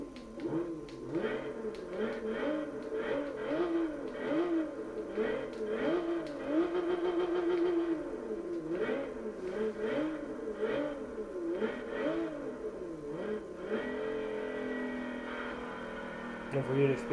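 Volkswagen Golf IV R32 engine in the Gran Turismo 6 racing game, repeatedly revving and shifting through gears with a wavering, rising and falling drone, fairly steady and close throughout with speech-like tones mixed in.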